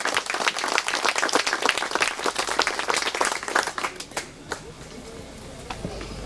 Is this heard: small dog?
no